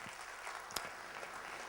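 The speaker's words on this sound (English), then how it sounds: "Can we give him another big round of applause," Quiet, distant applause from a conference audience honoring Mr. Nathan, with a soft continuous patter of hands and one sharper clap standing out briefly.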